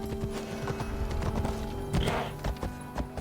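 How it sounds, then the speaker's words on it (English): Horse hooves clip-clop in a steady rhythm in Assassin's Creed Odyssey, with a brief whinny from the horse, heard close over an ambient game soundscape. "Where you at, horse?"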